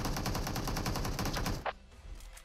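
Loud, rapid automatic gunfire from a video game shooter rattles in one continuous burst for about a second and a half, then cuts off abruptly into quiet background noise.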